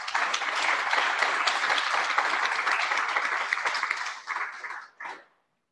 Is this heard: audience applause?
yes